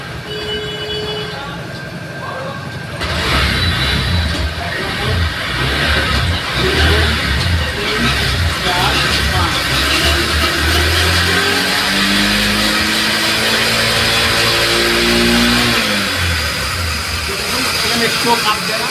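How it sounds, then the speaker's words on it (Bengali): A Honda SP 125 BS6 motorcycle engine starts with a sudden jump in loudness near the three-second mark, then idles and revs in steady, rising and falling waves, heard loud and close throughout. "চলুন এবার গাড়িটাকে আমি স্টার্ট দিচ্ছি।"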